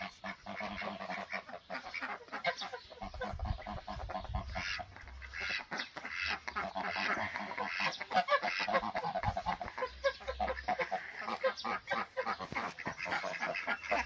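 A pair of geese, a goose and a gander, honk repeatedly in a dense, overlapping chorus of nasal calls, close and fairly loud, with no talk over them.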